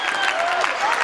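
Spectators at a youth basketball final applaud an injured Sancat Firenze player, number 41, in a brief, steady burst of crowd clapping with a faint voice over it.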